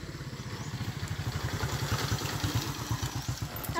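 A motorcycle engine runs nearby with a steady rapid putter and mechanical clatter, holding even and growing slightly louder toward the end, with no talking.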